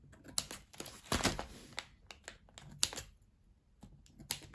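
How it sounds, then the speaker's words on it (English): Scissors snip the end of camo material for a homemade rifle shooting bag, giving several crisp, close cutting clicks at uneven intervals in a quiet room. "Snip the end"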